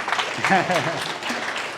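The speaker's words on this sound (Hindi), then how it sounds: "पहले तो तालियां भाई" Audience at an entrepreneurship awareness program at CT University claps in a moderate, steady patter while a voice talks over it.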